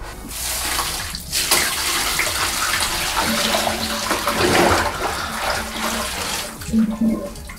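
Orange-tinted bath bomb water poured out of a container, a loud continuous close splashing gush that runs steadily for several seconds with brief surges.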